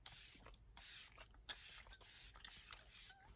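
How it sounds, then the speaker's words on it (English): Morphe Luminous Continuous Setting Mist sprayed onto a face in a run of about six soft, airy bursts, each roughly a third of a second long and separated by short pauses, close and fairly quiet. "I am going to just very quickly like set my face with the Morphe Luminous Continuous Setting"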